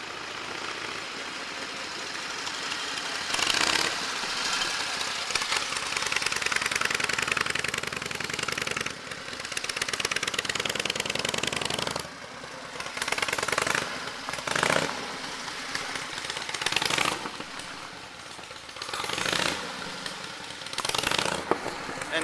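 An antique Harley-Davidson JDH two-cam motorcycle engine running with a homemade exhaust, loud and close, revving up and dropping back repeatedly in bursts of rough, rapid firing.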